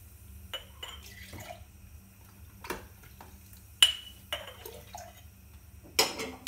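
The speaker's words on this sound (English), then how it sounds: "Pour yourself a winter treat." Warm mulled cider pours and splashes into a cup in short bursts, with clinks of glass or dishware and brief quiet gaps between.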